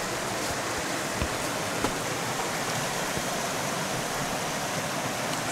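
A swollen creek along a wooded Missouri hiking trail rushes in a constant broadband wash of flowing water, steady and moderately close, with no voices.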